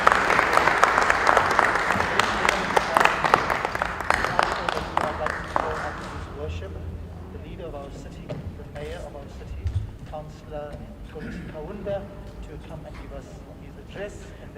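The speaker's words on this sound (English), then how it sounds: "Let's give a round of applause to His Worship," An audience at a matric awards ceremony applauds the mayor with dense, loud clapping for about six seconds, then the applause dies away and a voice talks over a quieter room.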